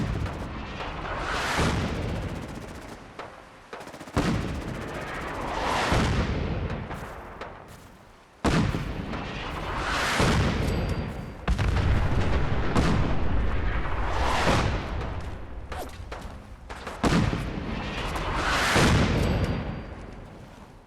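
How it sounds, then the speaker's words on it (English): Artillery barrage in the post-apocalyptic game Fallout during the Institute story mission, a run of heavy booming blasts landing every couple of seconds, each with a long rumbling roar and debris tail, loud and near. "Probably the most effective artillery I'm ever gonna have."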